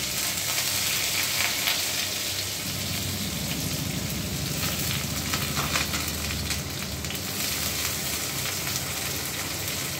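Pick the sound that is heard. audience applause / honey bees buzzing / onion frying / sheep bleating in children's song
onion frying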